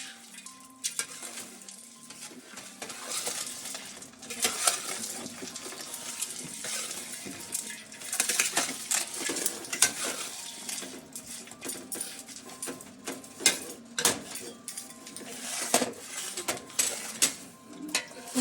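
Crumbled bacon stirred into a thick cheesy carnivore casserole with egg yolks, a steady close-up scraping and clinking of utensil against the dish with wet, sticky mixing sounds and no talking.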